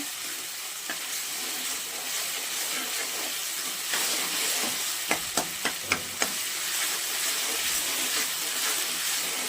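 Tomatoes frying and softening in a pan for a potato fry, a steady hissing sizzle with a run of sharp utensil taps against the pan partway through.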